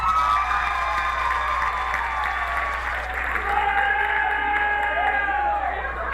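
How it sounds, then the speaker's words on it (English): A studio audience applauding at a live TV talk show, dense clapping and crowd noise held steady throughout, with a voice or tonal sound carrying over the top. "Let's give a big round of applause to Mr."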